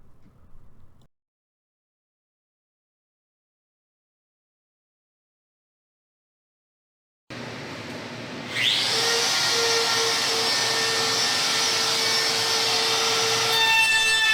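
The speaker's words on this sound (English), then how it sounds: "Here I'm cutting the holes that will allow the dust to go into the bottom dust collector" A power tool cutting dust holes in plywood for a miter saw stand. A short burst of sound is followed by silence, then the tool starts and winds up into a loud, steady high whine that continues to the end.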